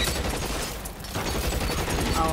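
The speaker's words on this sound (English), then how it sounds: "I don't even know where they're shooting from!" Enemy gunfire in L.A. Noire, a continuous loud barrage of overlapping shots with a brief dip in the middle before the firing picks back up.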